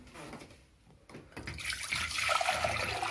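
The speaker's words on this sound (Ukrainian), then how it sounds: "Для начала виливаем воду." A liter of water for cooking pearl barley being poured out into a pot, beginning with a few faint knocks and handling sounds, then a rising, steady splashing gush that continues to the end, near and fairly quiet.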